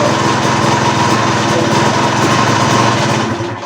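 A 1991 Honda CR250R two-stroke motorcycle engine idling just after starting, a loud, close, steady buzzing putter that runs evenly and then fades at the end, with no talk over it.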